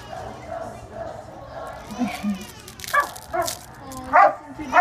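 A shelter puppy gives high, thin whimpers and short yips, rising into louder cries toward the end, while someone talks over them nearby.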